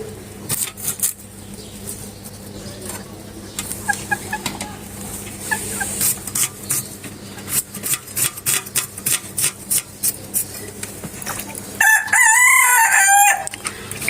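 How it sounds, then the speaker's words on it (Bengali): Roosters crowing repeatedly at close range in a village yard, loud ringing calls with clucks in between, over a background of kitchen chopping and rustling. "দেখেন আমাদের মোরগগুলো কিভাবে ডাকতেছে।"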